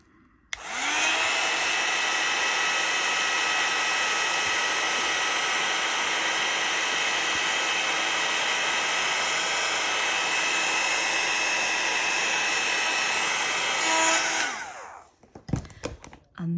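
A heat tool blows a loud, steady whir for about fourteen seconds while warming embossing powder on a handmade card, then cuts off abruptly with a few clicks and handling sounds afterward.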